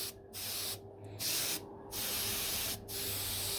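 An HP CR3 airbrush sprays test puffs before weathering model trains, giving a series of soft, steady hissing bursts separated by short pauses, close and fairly quiet.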